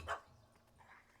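A small puppy in The Witcher III gives a single short bark near the start, fairly faint against quiet game ambience, followed by a softer second yip.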